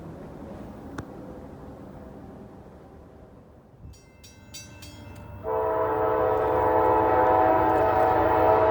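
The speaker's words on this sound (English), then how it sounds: "we've got a southbound coming here. Looks like it might be a grain train" A quiet rumble gives way to a freight train's horn and then a loud, sustained blast as a southbound grain train passes close by, its rumble rising underneath.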